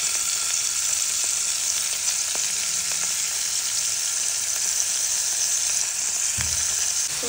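Prawns frying in ghee in a pan for a Mangalore-style ghee roast: a loud, steady, close sizzle that holds for the whole stretch, with faint stirring knocks near the end.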